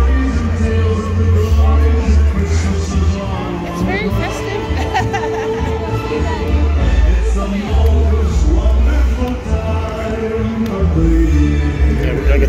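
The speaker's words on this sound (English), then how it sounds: "This crowd here." Babbling holiday crowd at SeaWorld's holiday lights event, a steady murmur of many voices over music with nearby people talking throughout.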